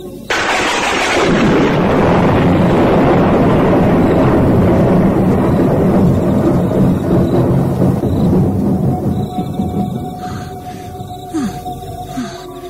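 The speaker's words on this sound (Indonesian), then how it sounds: "Mengapa petir itu berbunyi keras sekali?" A loud, sudden thunder clap bursts out and then rolls into a long, heavy rumble that slowly fades over several seconds, with no voices.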